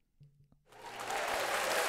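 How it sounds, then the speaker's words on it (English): A canned applause sound effect fired from a button, starting softly after a few faint knocks, then swelling into continuous clapping that keeps going to the end. "I'm still getting applause?"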